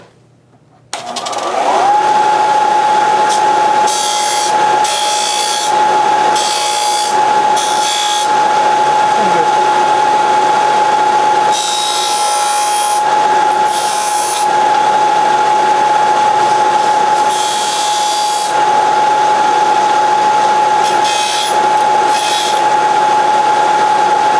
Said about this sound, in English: we'll meet you over to the sanding machine